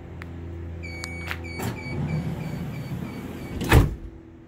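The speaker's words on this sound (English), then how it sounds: "So enough power to close the door." A 2020 Ford Transit power sliding door whirs shut with a steady electric motor hum, then closes with a solid latching thud near the end, heard up close with no talking.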